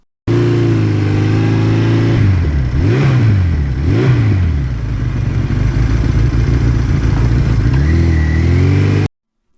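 A 1982 Suzuki GS1100E motorcycle idles loud and close, its engine blipped twice in quick revs early on, then settling back to a rough, steady idle before one last small rise near the end.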